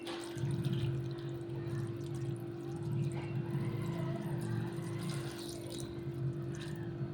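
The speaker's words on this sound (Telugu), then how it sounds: "దీంట్లో నీళ్ళు పోసుకోవాలండి" Water is poured into a cooking pot for a meat and chukkakura curry, a soft continuous liquid pour and trickle over a low steady hum, quiet and unbroken throughout.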